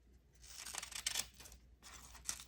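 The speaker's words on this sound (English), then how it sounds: "I'm gonna cut it down a bit so that it fits a little bit better on my cover." Scissors snip through a piece of leather being trimmed down for a cover, a few quiet crisp cutting bursts in irregular rhythm in a cramped indoor space.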